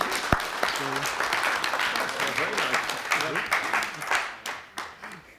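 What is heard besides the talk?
audience applause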